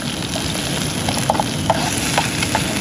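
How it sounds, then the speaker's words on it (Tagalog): Steady sizzling of food being sautéed in a hot frying pan for a Filipino tinola dish, a dense continuous hiss with light scraping and stirring clicks throughout and no talk. "gisa natin, gisa"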